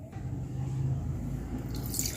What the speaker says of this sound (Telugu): ముందు మనం కొంచెం వాటర్తో గిన్నెని మొత్తం ఇలా తొలుపుకొని ఈ నీళ్ళని వంపేసుకోవాలండి